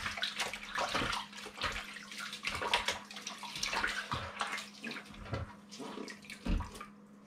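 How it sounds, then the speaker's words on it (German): Water is poured and swished into the lower basin of a household oven during eco-friendly cleaning, giving a quiet, irregular splashing and trickling that continues throughout without speech. "Jetzt habe ich ein bisschen Wasser unten ins Becken reingemacht."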